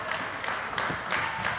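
A wrestling crowd at a female wrestling match gives a short burst of clapping and cheering, a steady close wash of noise with rhythmic claps lasting under two seconds.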